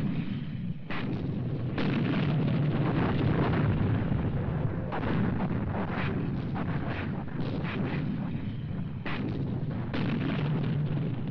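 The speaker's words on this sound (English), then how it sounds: "At Konstum, just before dawn, the German artillery directed a heavy barrage onto the town." German artillery barrage pounding a town at dawn in a documentary wartime setting, heavy booming blasts arriving in rapid overlapping bursts over a continuous rumbling roar.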